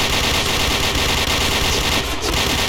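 Rapid automatic gunfire in a Point Blank first-person shooter match on a public server, a dense, continuous barrage of shots that stays loud and close throughout with no pause.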